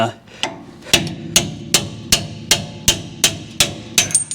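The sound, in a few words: hammering a pickle fork on Ford F150 brake parts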